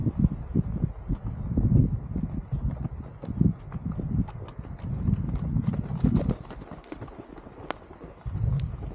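Hooves clip-clop steadily as two horses trot along nearby at Issyk-Kul lake, a brisk uneven rhythm with some background commotion.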